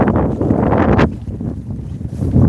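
Gusting wind buffeting the microphone beside a frozen lake edge with ice along the shore, a loud roaring blast that drops off abruptly, then lighter gusts returning.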